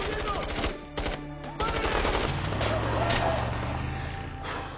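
Film scene gunfire with a rapid burst of automatic shots, then a pause and another fast volley, followed by a few scattered single cracks over a rumbling engine-like background.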